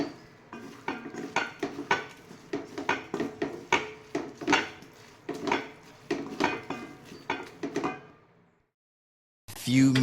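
A spoon stirring soya chunks masala in a pan over a low flame gives a string of close, sharp metallic scrapes and knocks in an irregular rhythm, followed by a brief silence and a final clatter.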